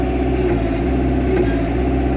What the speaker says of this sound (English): You can just hear the engine under load.